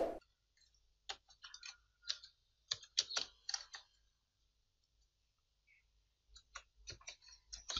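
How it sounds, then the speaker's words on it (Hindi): Typing on a computer keyboard while entering names on a new page, with scattered bursts of close, crisp key clicks separated by quiet pauses, and no talk. "अगर मैं इसके इधर लिख देता हूँ अशरफ"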